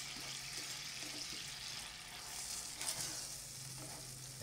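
Garlic fries in a pan, a steady soft hiss of sizzling oil with a slight swell near the middle, fairly quiet and close, no talking.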